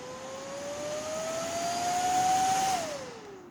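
A homemade fan built from a hard drive motor on a 12-volt controller whines louder as its pitch climbs steadily to a peak, then drops off sharply as it slows, heard close with a rushing hiss underneath.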